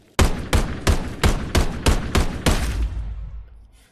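Eight evenly spaced gunshots from an AR-3 rifle in the video game Contractors Exfilzone, loud and close, a steady semi-automatic rhythm with a short reverberant tail after the last shot.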